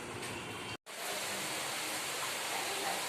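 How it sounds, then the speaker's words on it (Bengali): Rain falls steadily as a broad, even hiss, continuous apart from a brief cut near the start, fairly close and without speech. "বৃষ্টি শুরু হয়ে গেল আমাদের।"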